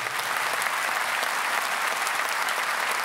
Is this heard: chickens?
no